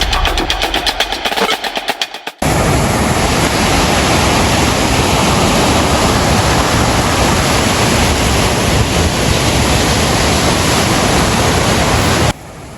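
Big waves roar continuously at a river mouth as fishing boats enter, a loud, steady wash of surf that cuts in after a brief rougher opening and then stops abruptly near the end.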